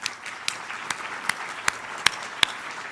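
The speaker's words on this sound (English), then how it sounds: "So let's give everyone a hand of applause." An audience claps together through a celebration gathering for a health-technology ecosystem's anniversary, a steady wash of hands with a few sharper, louder claps standing out near the front.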